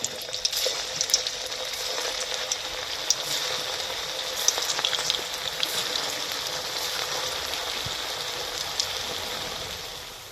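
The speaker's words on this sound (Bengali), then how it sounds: "একই রকমভাবে এগুলোও ভেজে নেব" Steady bubbling sizzle of soybean balls frying in oil, a dense crackling hiss with occasional small pops, fading slightly at the end.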